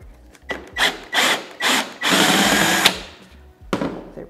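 Screws being backed out of a thrift store table, Robertson square-drive type, with several short bursts of power-driver whirring and wood-rubbing grind, one longer run in the middle, close and fairly loud with no talk.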